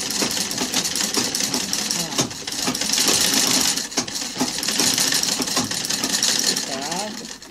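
A sewing machine runs in steady loud bursts as it stitches thick fabric for a toilet paper holder, with brief pauses and a faint voice underneath.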